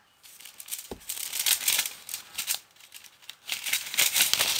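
A paper utility bill for home internet service is picked up and handled, giving a run of soft, close crinkling and rustling bursts with no talking over it.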